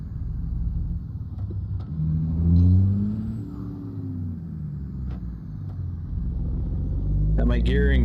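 An FBL cab-over mod truck engine in American Truck Simulator rumbles deep and steady, rising and falling with gear shifts, with a person talking over it and a hiss near the end.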